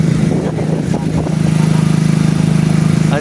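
Motorcycles pass close by on a busy road near a tunnel heading into the mountains, making a loud, steady engine drone that swells as they go by.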